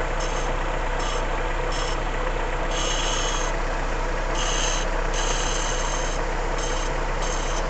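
A car engine idles steadily, a constant low rumble and hum with a faint periodic ticking on top, heard close and alone with no talking.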